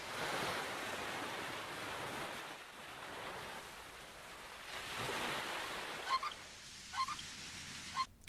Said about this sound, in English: the sound of the waves and the ocean as background noise